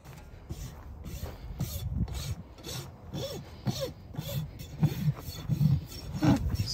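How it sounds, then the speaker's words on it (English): A rasp files a neglected pony's hoof in repeated rough scraping strokes, close and moderately loud, with uneven rhythm and outdoor ambience behind. "So while he was trimming and rasping this back one, trying to shape it a little bit"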